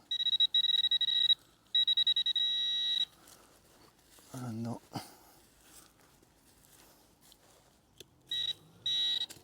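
Loud electronic device beeping in rapid shrill bursts, heard outdoors on a forest path; several long beeping runs start and stop, with brief talk and rustling in the gaps between them.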